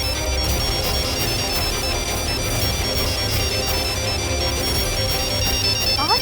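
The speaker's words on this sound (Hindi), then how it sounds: "बेल बज रही है।" A phone ringtone plays continuously, a repeating electronic melody sounding loud and steady for several seconds.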